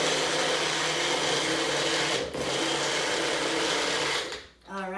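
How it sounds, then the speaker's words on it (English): A small blender whirs at high speed, blending mint leaves into liquid in a continuous close, loud motor buzz that briefly dips midway and then winds down to a stop at the end. "to get those mint leaves infused and into that liquid, we're gonna give it a little blend. So this is just my little blender"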